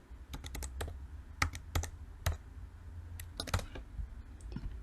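Someone types a CPF number on a keyboard, producing irregular bursts of sharp, close key clicks over a quiet background hum.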